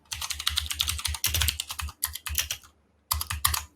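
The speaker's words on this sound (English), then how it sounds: "I simply just start typing here." Rapid keyboard typing up close, clicks coming in fast bursts with a brief pause before a final flurry of keystrokes.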